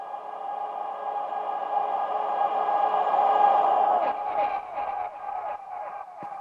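A reversed, reverb-soaked vocal swells steadily for about four seconds in a sustained tonal wash, then sucks into a short shout followed by choppy vocal fragments, all in a produced dance track.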